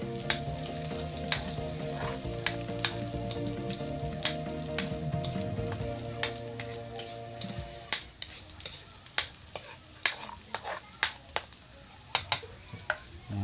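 Onions for a vegetable empanada filling sizzle steadily in a frying pan, with a utensil clicking and scraping as they are stirred. Background music plays under the first part and then stops.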